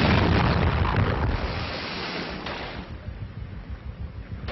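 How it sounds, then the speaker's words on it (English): A naval gun fires a shot across a ship's bows in a 1939 film, a loud broadband blast that rolls on for a couple of seconds before fading into a lower rumble of sea and ship noise. "I have to put a shot across our bows."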